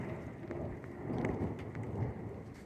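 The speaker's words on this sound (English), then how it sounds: "It was beginning to rain." Steady rain during a spring thunderstorm, heard from an apartment as a continuous wash with a low rumble swelling midway, no talking.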